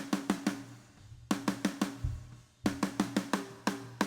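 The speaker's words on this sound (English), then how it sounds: "And that snare sounds like this now." A mixed rock drum snare with a higher-tuned trigger and EQ boost hits in quick, sharp, ringing strokes, grouped in fast runs with a brief pause between them, punchy and close, with no talking.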